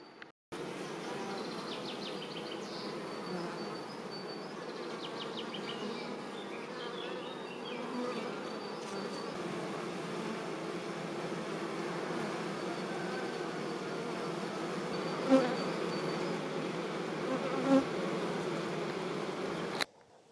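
Honey bees buzz around a beehive on a farm in the mountains of Georgia, a dense continuous drone with a few brief louder knocks near the end.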